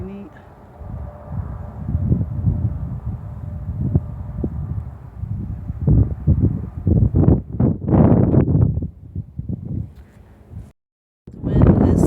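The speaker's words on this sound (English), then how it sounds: "The wind's blowing, so that stinks." Gusty wind buffets the microphone outdoors on a high vantage point in Nevada, a low rumbling roar rising and falling through the clip with heavier bursts near the end, while a person talks over it.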